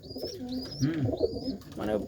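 Pigeons coo in a loft housing many breeds of flying pigeons, several soft rolling coos repeating close by with faint chirps and a thin high whistle over a steady low background.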